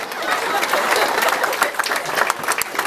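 Wedding guests applauding loudly, dense sustained clapping from a crowd with some chatter mixed in.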